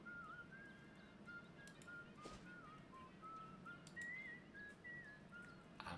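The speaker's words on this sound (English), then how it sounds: "I'm whistling" A person whistles a quiet, wandering melody of short sustained notes over a low steady background hum, with a couple of brief clicks; the whistling is fairly faint and the only sound in the foreground.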